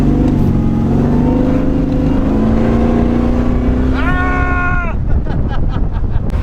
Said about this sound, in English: this is my first time driving a 700 horsepower 1948 Buick